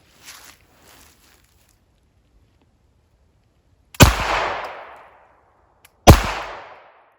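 Two sharp .22 LR rifle shots are fired at a bowling pin outdoors, each a sudden loud crack with a decaying tail, a couple of seconds apart, following a few faint soft knocks and near silence.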